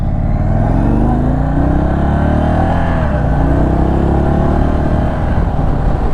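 A 2022 Indian Chief Darkhorse motorcycle engine runs loud and close while riding in sport mode, a steady deep rumble with shifting rev tones throughout and no talk.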